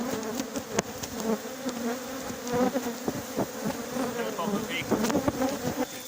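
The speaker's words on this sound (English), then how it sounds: "The bees are getting quite agitated" Dense, agitated buzzing of many bees swarming close by during extraction from a huge coral rock, a continuous drone with sharp bursts as individual insects zip past.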